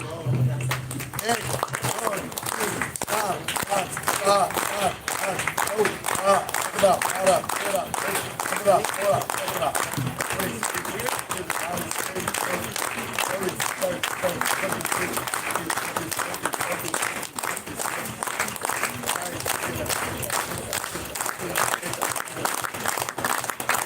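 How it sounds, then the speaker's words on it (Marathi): Audience clapping together at a live gathering, led off by a speaker to count sixty-eight claps, forming a dense, loud, sustained wash of applause with a rhythmic pulse, some voices mixed in throughout. "आपण अडुसष्ट टाळ्या वाजवायच्या"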